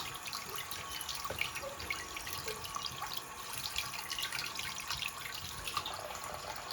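Turtle tank filter sponges being rinsed under a running tap, a steady close hiss of water splashing into a sink with scattered drips, continuous and fairly quiet with no talking.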